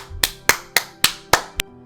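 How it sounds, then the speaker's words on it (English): Six sharp, evenly spaced hand claps from a single person, close and crisp, each a distinct isolated smack with silence between, the last slightly softer. "Just round of applause"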